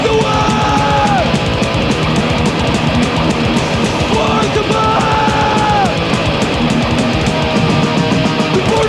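Crowd of fans outside Madison Square Garden at a 1991 Clash of the Titans metal concert, a dense, loud, continuous roar of yelling and chanting voices throughout.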